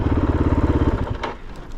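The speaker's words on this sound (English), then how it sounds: "Can't tell me dirt bikes aren't fun." A dirt bike engine revs close by with a rapid, pulsing exhaust beat while riding on a graded desert road in Baja, easing off after about a second into rougher crackle and wind.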